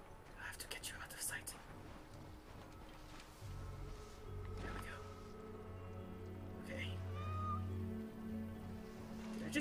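A cat meows inside Assassin's Creed Origins, a short rising call close by amid game ambience and low background hum, with a player talking around it.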